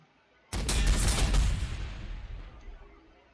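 Heavy bolter rounds fire in Warhammer 40,000: Sanctus Reach, a loud burst of rapid gunfire that starts abruptly and rumbles for about a second before trailing off into a long echoing decay.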